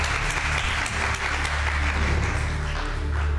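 Studio audience applauding steadily at a televised Persian pantomime game show, a dense, loud wash of clapping that fills the whole stretch without pause.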